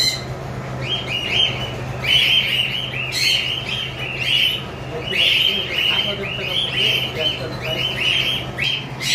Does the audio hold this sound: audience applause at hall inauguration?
no